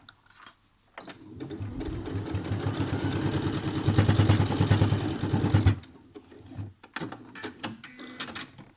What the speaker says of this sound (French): Je renforce la couture au niveau du lien.